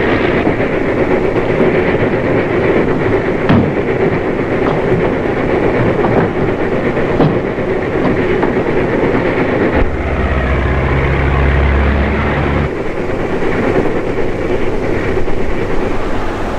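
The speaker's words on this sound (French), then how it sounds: "Tout le monde sur la locomotive" A locomotive train runs on rails in a 1937 film scene, a loud continuous rumbling roll with clattering wheel beats and a deep low surge partway through, steady and close with no voices.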